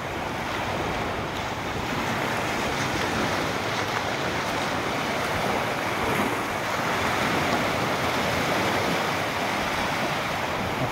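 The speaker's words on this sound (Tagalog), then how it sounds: "Ganito kaganda ang karagatan dito sa Oriental Mindoro." Ocean waves and surf along the coast of Oriental Mindoro make a steady, loud broadband wash with continuous wind noise, and no voices.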